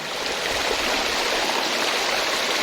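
Steady rushing of a flowing stream in Nakhon Nayok, Thailand, a constant broad hiss of water over rocks, fairly close and uninterrupted, with no talking.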